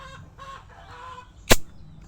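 Hen and chicks clucking softly at close range, with soft peeping and low clucks through the first seconds, then one sharp loud burst near the middle before quieter clucks resume.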